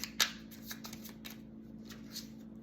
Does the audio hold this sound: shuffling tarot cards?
yes